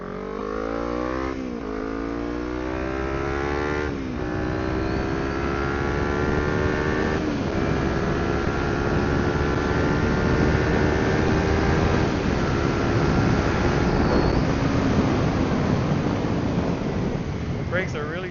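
A Kawasaki Ninja 300 motorcycle being ridden, its engine note climbing through gear changes over heavy wind rush, loud and continuous, with a rider speaking at times.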